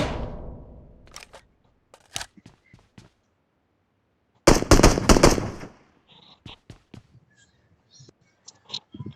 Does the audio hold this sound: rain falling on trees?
no